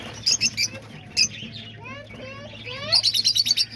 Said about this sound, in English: here's all the peach face lovebirds